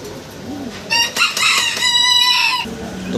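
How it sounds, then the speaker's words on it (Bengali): A single Golden Separate rooster crows close by, one loud full cock-a-doodle-doo call rising and then trailing off. "পুরো ভিডিওর ভিতরে আমাদের যে মোরগের ডাক শুনছেন দর্শক আপনারা"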